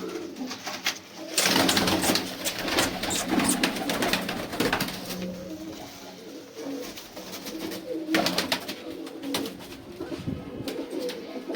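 Several large pigeons cooing in a pen of big pigeons, with repeated murmuring calls and fluttering bursts spread across the stretch at moderate, fairly close loudness, no voices.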